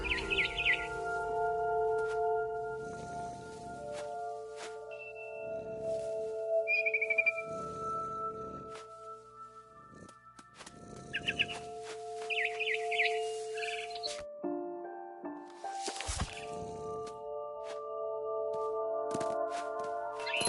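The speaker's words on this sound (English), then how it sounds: "Then I heard chirping outside my window. It was a barn swallow going back to her nest." A barn swallow chirps outside a window in the video game What Remains of Edith Finch: a few short, bright calls in separate bursts over steady sustained game music, with no talking.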